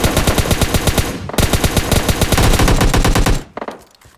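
Loud, close automatic gunfire in a video game match: rapid regular bursts, a short break near the middle, then a longer volley that cuts off and fades into a few scattered echoes.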